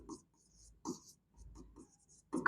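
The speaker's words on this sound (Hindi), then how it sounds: "तो लिखेंगे यहाँ पे" Chalk or a marker scratches across a board in short, intermittent strokes during a Class 10 trigonometry lesson, close and fairly quiet, with pauses between marks.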